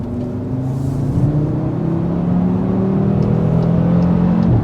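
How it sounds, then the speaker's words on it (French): Cupra Formentor VZ5 with its five-cylinder engine accelerating in comfort mode, heard from inside the cabin as a loud, steady rising drone with engine tones climbing through the gears. "Et là, on va se faire une petite relance en mode confort"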